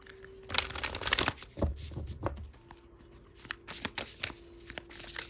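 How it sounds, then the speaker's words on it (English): Close, crisp riffle-and-slap of a deck of tarot cards being shuffled repeatedly, papery bursts coming in quick uneven bunches. "Let me shuffle."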